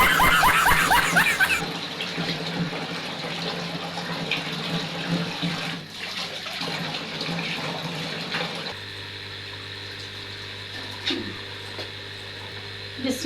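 Rice being washed in water in a home kitchen while making matar pulao, with running tap water and splashing that shifts in tone partway through and ends with a steadier flow, and a little background voice.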